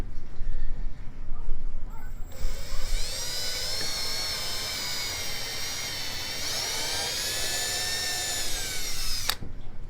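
A power drill driving 2.5 inch screws into wood for an aquarium stand: one long, loud whining run that rises in pitch and strains as the screw bites, then cuts off sharply, with brief talk before it.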